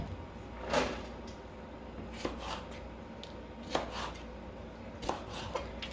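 Knife cutting through vegetables on a cutting board, four distinct thuds spaced roughly a second and a half apart, each a sharp chop over quiet kitchen background.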